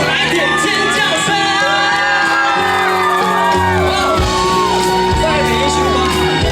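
Outdoor temple festival concert crowd at a Taiwanese celebration, loud continuous screaming, whooping and cheering over amplified music, with voices calling out throughout.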